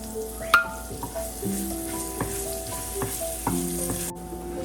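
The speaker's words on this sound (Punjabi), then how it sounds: "ਇਹਦੇ ਵਿੱਚ ਅਸੀਂ ਹਰੀ ਮਿਰਚ ਪਾ ਲਵਾਂਗੇ ਉਹ ਵੀ ਥੋੜੀ ਜਿਹੀ ਭੁੱਜ ਜਾਵੇ" Green chillies and cumin frying in a pan for jeera aloo, a steady close sizzle with occasional spatula scrapes and taps, no voices.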